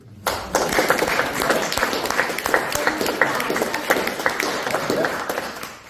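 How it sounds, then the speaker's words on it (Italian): Audience at a book presentation giving a welcoming round of applause for a writer, close, steady hand clapping from a modest gathering with distinct individual claps, lasting several seconds before tapering off. "la salutiamo intanto con un applauso che non abbiamo fatto all'inizio"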